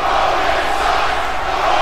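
A wrestling video game crowd at a UK title match roars steadily and loudly throughout, a dense, unbroken wash of arena noise with no pauses.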